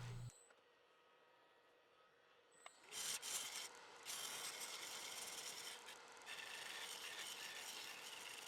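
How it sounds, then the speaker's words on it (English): A steel scraper rasps across epoxy-filled burl wood spinning on a lathe, a steady broadband scraping that starts after a quiet moment and continues in close, loud passes with brief dips between strokes. "I removed it with a few passes of the scraper."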